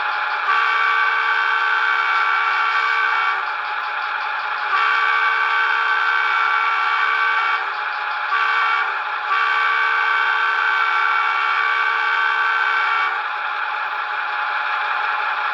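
A Broadway Limited HO scale EMD F9A model locomotive sounds its multi-chime horn in loud, sustained blasts of about three to four seconds each, separated by brief gaps and shorter toots, with no talking.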